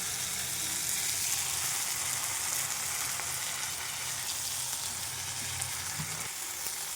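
Poppy seed paste and vegetable stems fry in a pan with a dense, even, close sizzle that holds steady throughout, with no talking.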